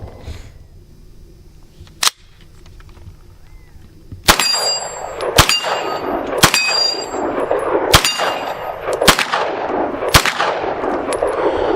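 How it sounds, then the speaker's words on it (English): CZ Scorpion Micro EVO 3 S2 pistol fitted with a red dot sight, fired at steel targets on a range: a single loud crack, then a rapid string of sharp gunshots, each ending in a ringing metallic clang. "Yeah, still shooting pretty low."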